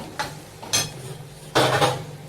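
A spoon clinks and scrapes against a pan in three short bursts while spices and ground peanut powder are stirred, close and fairly quiet, with no talking.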